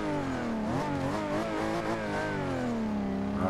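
A 1998 Toyota Supra in Forza Horizon 2 holds a steady, loud engine rev near 5,500 RPM before launch, its pitch wavering slightly as the throttle is held, then dipping and rising again at the end.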